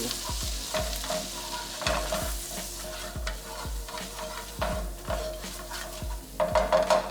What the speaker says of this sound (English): you want to just keep stirring because you don't want anything to burn